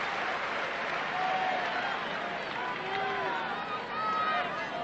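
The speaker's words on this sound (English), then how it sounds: "Listen to this crowd." Loud crowd applause and cheering fill a tennis stadium at the 1995 US Open women's final between Graf and Seles, a dense, steady roar with scattered whistles and shouts rising briefly.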